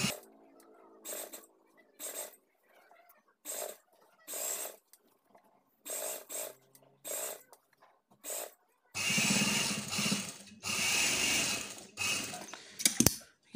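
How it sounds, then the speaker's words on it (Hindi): A sewing machine stitches a band neck collar in short, stop-start runs of mechanical whirring, then a longer sustained burst of stitching near the end, close and fairly quiet. "हम इस सिलाई के ऊपर दोबारा एक और सिलाई लगा देंगे"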